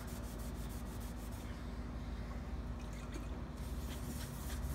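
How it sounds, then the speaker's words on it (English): Cloth rubbing acetone across a Grizzly G0555LX table surface to wipe off rust inhibitor, a steady soft scrubbing swish under a low constant hum, close and continuous. "Now would probably be a good time to clean all the rust inhibitor off the table."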